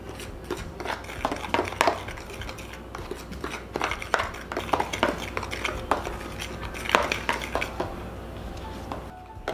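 Seasoning being stirred in a bowl with a utensil while making air-fried green tomatoes, giving a run of scattered clinks and scrapes at close range, with no talk over it.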